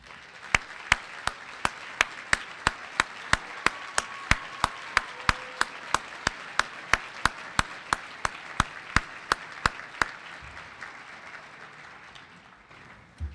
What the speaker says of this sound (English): ask all of the students to give them a round of applause for their hard work